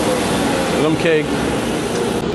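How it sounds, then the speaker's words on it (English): A shop vacuum with its port open roars steadily up close, a constant loud whooshing hum with no breaks. "Still got the vacuum on, got the port open."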